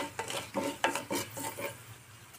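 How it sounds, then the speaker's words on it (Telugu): Coriander seeds stirred with a spoon into hot tempering oil in a pan while making Telugu garlic chilli powder, giving about six close, rhythmic scraping strokes over a faint sizzle, then settling to a quiet fry. "నేను తాలింపులో కూడా మరియు కొన్ని ధనియాలు యాడ్ చేస్తున్నానండి."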